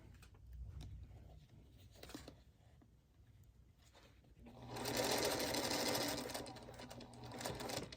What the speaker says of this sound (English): I'm just going to go ahead and sew over that one just to show you that you can.